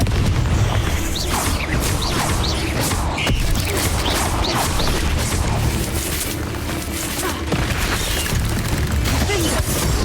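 Confringo fire spell blasts go off in Hogwarts Legacy amid dense combat, loud continuous booms and crashes layered with pops and rumbling for about ten seconds, close and heavy throughout.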